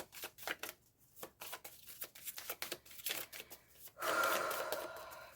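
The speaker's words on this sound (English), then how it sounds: "gonna start shuffling the cards" Rapid riffling snaps of tarot cards being shuffled in quick bursts, close and crisp, ending in a longer soft whooshing rustle.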